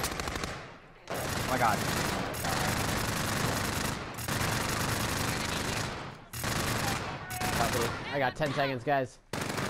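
Rapid bursts of automatic and pistol gunfire from the Call of Duty: Spec Ops video game, loud and nearly continuous with brief gaps, while a player shouts excitedly over the shooting.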